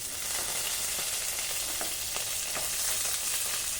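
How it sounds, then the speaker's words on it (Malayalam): Curry leaves dropped into hot oil for onion-tomato chammanthi hiss in a steady, close crackling sizzle, with a few faint clicks from the pan. "അപ്പോൾ നമുക്ക് കറിവേപ്പില ഇട്ട് കൊടുക്കാം."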